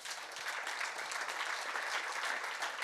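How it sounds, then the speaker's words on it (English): Audience applause at the FIH hockey congress, a steady wash of many hands clapping throughout, even and fairly distant, with no talk over it. "Give him a round of applause."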